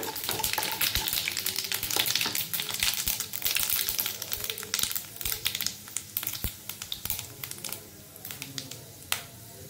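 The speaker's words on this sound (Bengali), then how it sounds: "এখানে আমি সরষে, জিরে আর চিলি ফ্লেক্সটা দিয়ে দেবো। এটা কিছুক্ষণ নেড়ে নেব ভালো করে।" Mustard seeds, cumin and chili flakes crackle and pop in hot oil in a pan while being stirred, a dense run of sharp sputtering snaps over steady sizzle that thins out slightly toward the end.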